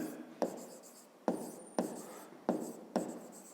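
Pen strokes on paper come close and quiet as the sides of a triangle are written out by hand for a fifth-grade maths exercise, in short separate bursts with brief pauses between.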